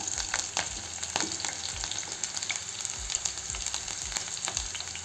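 Chopped onion with cumin and mustard seeds sizzles steadily in a pan, with repeated scraping stirs of a spoon breaking through the close, continuous frying hiss.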